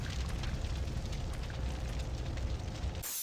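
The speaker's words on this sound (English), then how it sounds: "Why is there fire coming out of here?" Fire roars in Doom 3 BFG Edition as a loud, steady rushing blaze with a dense crackling low rumble. It holds evenly for about three seconds, then cuts off abruptly.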